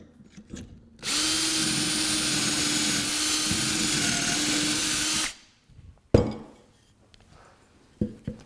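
A power drill runs steadily for about four seconds boring into a wooden table leg set in a drilling jig, close and loud, followed by knocks and light clatter of handling.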